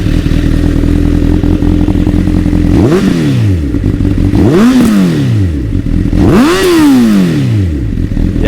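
Honda CBR1000RR Fireblade, a 2011 Hutchy edition with a Yoshimura exhaust, idling loudly up close before three sharp revs that rise and fall, each burst climbing high then dropping back to a rumbling idle.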